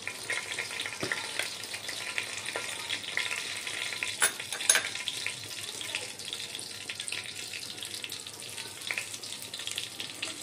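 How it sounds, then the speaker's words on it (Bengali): Bay leaves and cumin seeds crackle in hot oil for a village-style mutton curry, a steady moderate sizzle with occasional sharper pops and clinks close by. "এবার আমি তেল দিয়ে দিলাম, দিলাম 3টে তেজপাতা, বাকি দেবো আমি 1/2 চামচ জিরে"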